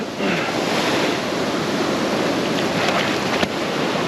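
Ocean surf washes steadily onto the shore where a fish is being landed, a continuous broadband roar with brief louder splashes, close and loud and with no talking.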